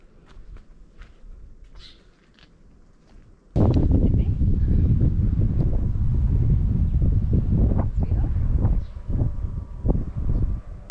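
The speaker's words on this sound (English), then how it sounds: "as you can hear, it's quite windy this morning" Strong wind buffets the microphone at a sailboat anchorage in Chatham Bay, St Vincent and the Grenadines, starting abruptly as a loud, steady roar with gusty surges and no talking.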